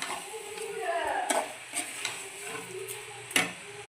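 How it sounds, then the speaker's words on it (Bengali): A spoon scrapes and stirs through a frying pan mixture with 400 grams of sugar added, giving repeated close scraping strokes over a soft sizzle, then a final louder knock before it stops abruptly. "খুব সুন্দর করে আবারও ভালো করে নাড়াচাড়া করে নেব।"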